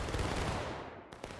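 Musket volley fire in the Civil War game War of Rights, a dense crackling burst of many shots blended together, loud and sustained before tapering off, with a sharper shot near the end.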